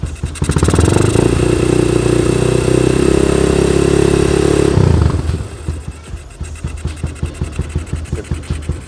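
Yamaha Vega R 2008 motorcycle engine revs loudly and steadily for about five seconds, then drops back to a rapid, chugging idle close by.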